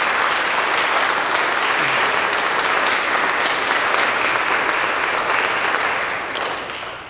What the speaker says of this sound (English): I know we're going to clap again as Lutherans